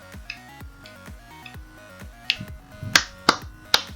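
Taps on a surface near a sound sensor in a robotics demonstration, a regular series of soft knocks followed by several sharp, louder claps close by toward the end.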